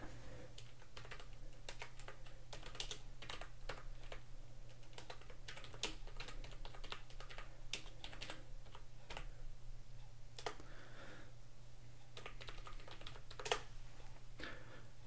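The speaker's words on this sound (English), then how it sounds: "go into the terminal and type in sudo apt-get install ghex" Someone types a terminal command on a computer keyboard, a steady run of irregular clicky keystrokes with occasional heavier key hits, close and alone over a low constant hum.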